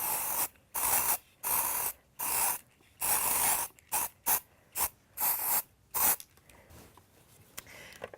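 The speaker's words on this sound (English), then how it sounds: "I'm just going to give the cake a quick once over with the silver shimmer spray." An aerosol can of silver shimmer spray hisses in a series of short bursts over a cake, some longer and some quick, close up, then falls quiet.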